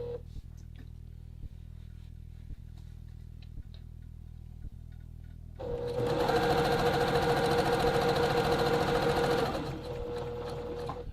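A sewing machine whirs loudly for about four seconds, back stitching and then sewing forward on a dart in a men's classic vest, after a quiet stretch of faint ticking.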